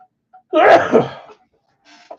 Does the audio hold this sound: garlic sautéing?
no